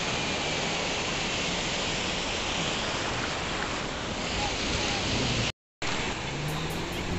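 Sea surf rolling onto the beach at Cox's Bazar in the afternoon, a steady broadband wash of waves with wind, continuous and fairly loud, with a brief dropout near the end.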